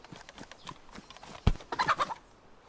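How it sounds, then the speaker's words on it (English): Chicken killed with a sharpened stick in the DayZ Standalone survival game, heard as a few soft footstep-like thuds followed by one sharp close impact and a short burst of flapping and squawking. "And here's one of those instances where we're going to go kill this chicken."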